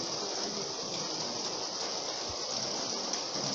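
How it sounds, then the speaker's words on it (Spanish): Steady outdoor rainfall, a dense even hiss of drops that holds at constant strength throughout with no voices. "ha empezado a llover y no he traído el chubasquero de lluvia"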